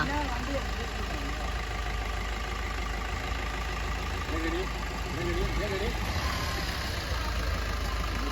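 A car engine runs steadily at low revs while the vehicle reverses, a continuous rumble under people talking throughout.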